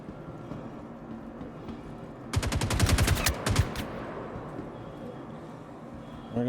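Rapid automatic gunfire erupts in a video game near a looted bunker, a dense burst of quick shots lasting over a second before dropping back to low ambient background.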